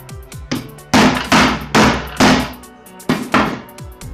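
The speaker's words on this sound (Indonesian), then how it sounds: "Kita tutup dengan palu." Sharp hammer blows knock a part into place while repairing a Maspion electric fan, about seven or eight loud, close metallic strikes at an uneven rhythm with short pauses between them.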